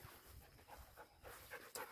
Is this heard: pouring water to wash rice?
no